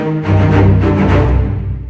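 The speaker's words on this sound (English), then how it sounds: "Strings, I like to have like a really big strings low staccato type of sound." Big low orchestral strings playing a staccato sample patch, a sustained dense block of layered bowed harmonics that swells quickly and holds loud for about two seconds with no talking.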